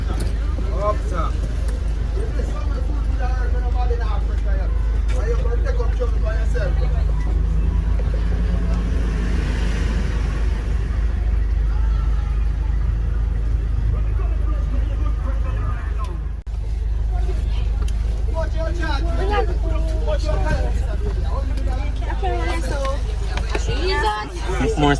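A bus rumbles along a road from Buff Bay to Port Antonio in Portland, Jamaica, with steady low engine and road noise throughout as passengers chatter and talk over it.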